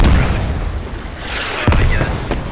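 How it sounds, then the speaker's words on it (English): Mortar shells landing in the Squad military shooter during a 50 vs 50 siege of an insurgent-held city: a loud, deep, rolling rumble of impacts throughout, with a sharper burst partway through. "Are these friendly or enemy mortars landing on gas?"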